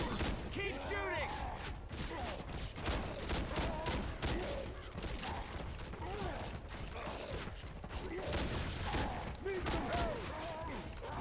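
Sustained gunfire from the video game Left 4 Dead 2 on Expert difficulty, with dense, rapid shots and thuds running throughout at a steady loud level while a player talks over the action.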